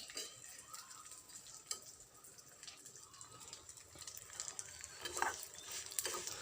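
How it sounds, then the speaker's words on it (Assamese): Vermicelli frying in hot ghee in a pan, with a quiet, steady sizzle under soft scraping strokes of a stirring spoon and a few light clinks. "অলপ সময় এনেদৰে ভাজি ল'ম।"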